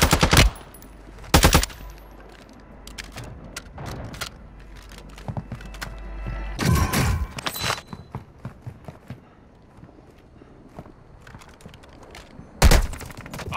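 Gunfire in the Call of Duty: Modern Warfare II Warzone video game: loud, sharp bursts and single shots scattered among quieter clatter and distant pops, with a long stretch of lighter noise between blasts.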